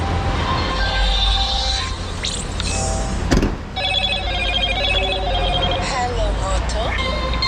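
A mobile phone rings with a repeating electronic ringtone pattern, mid-distance and moderately loud, over steady rumbling background noise and a sharp clatter partway through.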